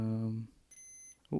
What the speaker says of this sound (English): No, there's just a little beep.